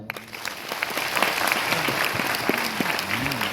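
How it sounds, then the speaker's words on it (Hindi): Audience giving a round of applause at a gathering, a steady wash of clapping from many hands with a voice briefly heard over it near the start and end. "तो मैं चाहूंगा ऊपर वाले के लिए एक बार जोरदार ताली"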